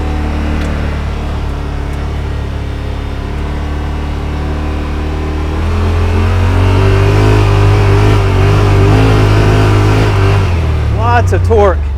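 A 2021 Yamaha Wolverine RMAX2 1000 Limited Edition side-by-side in two-wheel drive climbing a hill, its engine droning steadily and then rising to a louder, heavier pull partway through. Someone speaks over the engine noise near the end.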